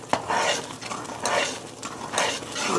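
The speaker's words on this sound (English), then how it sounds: "you want to just keep stirring it and making sure it doesn't burn" A spoon stirs a boiling pecan candy mixture in a pot, making rhythmic scraping sweeps against the metal with a soft bubbling sizzle underneath, close and steady with no talking.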